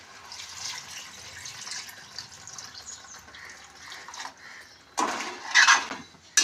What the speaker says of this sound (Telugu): ఇప్పుడు తగిన నీళ్ళు వేసుకుందాం.